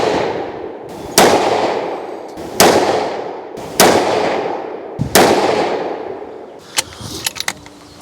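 Five sharp, loud rifle shots from a Tikka T3x in 22-250 with a 26-inch 1:8 twist barrel, spaced about a second and a half apart, each cracking then decaying into a brief outdoor echo, with light handling clicks after the last.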